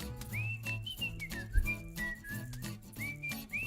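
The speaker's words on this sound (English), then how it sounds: "I hear a sound, this whistle" A wavering whistle with rising and falling pitch sounds over a busy musical backing, recurring in several phrases.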